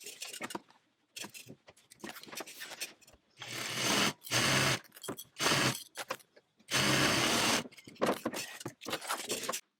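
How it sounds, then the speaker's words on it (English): A sewing machine stitches layers of fabric together for a tote bag, running in loud bursts of several seconds separated by pauses and small handling clicks. "I'm going to head across to my sewing machine, and I'm going to use a 1/2 inch seam allowance, and I'm going to stitch all those layers together"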